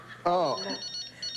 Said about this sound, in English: Dude, you got a phone ringing.